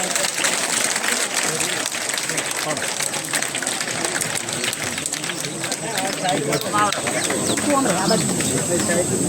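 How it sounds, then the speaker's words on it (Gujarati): Hands clap together in continuous applause as a crowd welcomes a guest at the opening of a new primary school in a village, dense and sustained for the whole stretch, mixed with crowd noise. "ઠાકોર સમાજના યુવાન તાળીઓથી આપણે સાહેબશ્રીને વધાવીશું"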